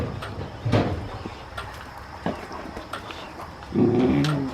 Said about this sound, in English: Nah, you don't have to bark.